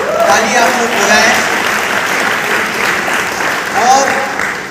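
An audience at a business training event in a Kolkata hotel hall applauding loudly: sustained, dense clapping from many hands for several seconds, with a voice speaking over it.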